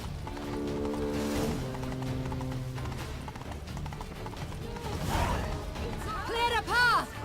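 Hoofbeats of a ridden horse in The Witcher 3: Blood and Wine, a steady clip-clop rhythm under game music, with a horse whinny near the end and a voice speaking partway through.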